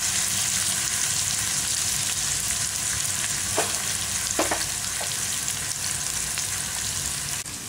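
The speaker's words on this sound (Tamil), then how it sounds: "இது வதங்கட்டும்." Chicken rasam ingredients sautéing in a pan: a loud, continuous close sizzle of frying oil with a few brief clinks of a spoon against the pan midway, no voices.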